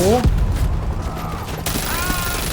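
Gunfire in the zombie shooter World War Z: Aftermath crackles in scattered bursts over game noise while players talk.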